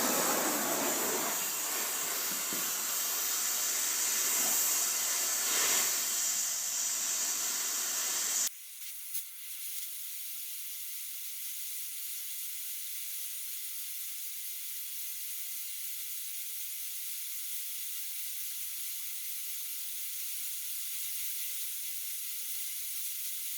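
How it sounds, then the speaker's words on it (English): A steady, close hiss from heat being applied to the end of a stuck bolt during a press pull continues throughout, shifting partway to a thinner, higher, unchanging hiss with no talking. "I just heated this bolt end on this side"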